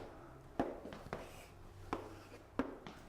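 Chalk or a marker taps and scrapes on a board during a lecture, with several short, sharp strokes in an uneven rhythm, fairly faint and alone in a quiet room.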